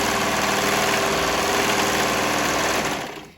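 A sewing machine stitches a band onto a V-neck bodice in one loud, continuous, close run that slows and stops at the end.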